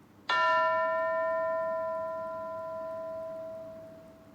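A single bell is struck once and rings out clearly, its bright tone slowly decaying over several seconds in a quiet room.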